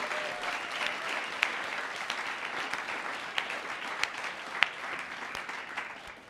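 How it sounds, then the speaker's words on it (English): Audience applause honoring faculty at a university undergraduate awards ceremony, a soft even wash of clapping heard from a distance with occasional sharper single claps popping out. "So let's also have some applause for the faculty."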